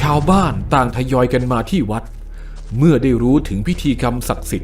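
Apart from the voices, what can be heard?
None of the usual background noises is heard.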